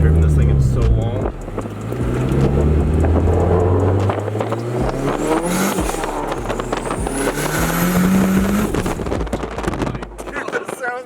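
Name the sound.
turbocharged KA24DET Nissan 240SX engine driving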